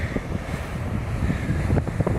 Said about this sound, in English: 25 foot waves. Oh my God, here they come. Sneaker waves.